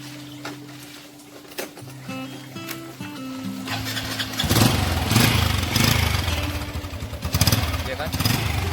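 A four-stroke motorcycle engine cranks on the electric starter with a few stuttering attempts, then catches and settles into a loud, steady running rumble nearby.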